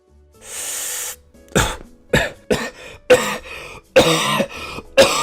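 A person coughs repeatedly, starting with a long raspy exhale and then giving about six sharp, throaty hacks at irregular intervals, close and loud, with no speech around them.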